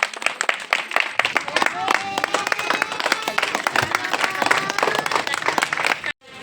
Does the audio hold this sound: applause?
yes